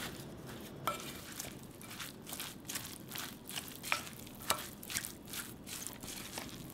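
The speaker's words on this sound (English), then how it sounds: "And then, let's mix." A shrimp and Asian chive dumpling filling with sesame oil and potato starch is mixed by hand in a bowl, soft wet squishes and slaps repeating in an irregular rhythm, close but faint and without talk.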